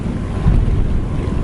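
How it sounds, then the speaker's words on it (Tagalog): Strong wind roars at sea aboard a small fishing boat out after needlefish, a loud, steady broadband rush buffeting the microphone along with water wash, with no talking. "ang lakas ng hangin."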